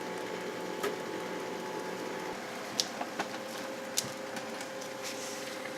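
An OKI C332DN colour laser printer warming up to print, giving a low steady mechanical hum with a few faint clicks and brief ticks from its internal gears, fairly quiet and heard alone.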